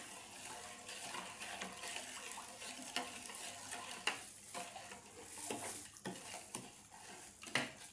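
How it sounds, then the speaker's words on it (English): Liquid soap ingredients soaking in water being stirred to dissolve, a faint wet swishing with soft scraping and occasional louder knocks of the stirrer against the container. "So you stir for it to dissolve."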